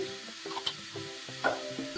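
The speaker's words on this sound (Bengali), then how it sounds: "ভাজা ভাজা হবার পরে একটুখানি এটাকে কষতে হবে, চিকেনটাকে কষতে হবে" Chicken mince frying in a pan with spices, a soft sizzle under brief stirring scrapes and clinks of a spatula.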